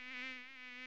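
A buzzing sound effect, a thin, steady insect-like drone like a mosquito or fly, close and continuous for under a second.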